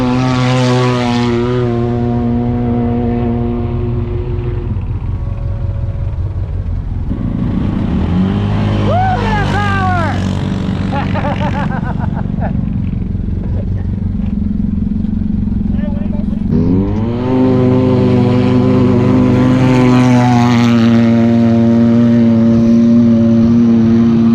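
A Wildcat Turbo side-by-side launches on a trail, its engine revving up loud and close with rising pitch, then easing and surging again, while people talk over it.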